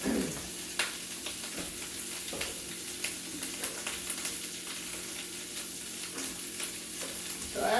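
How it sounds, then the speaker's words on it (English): Cabbage cooks in a frying pan with a soft, continuous sizzle, broken by scattered stirring clicks and scrapes, fairly quiet and close, with no talking. "So after you put your nice cabbage into the pan, you can let it cook a little bit"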